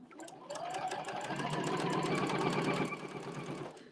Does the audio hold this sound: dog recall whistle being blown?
no